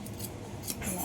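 Scissors cutting through an old saree fabric, quick close snips lasting about a second, with a soft murmur of speech in the background.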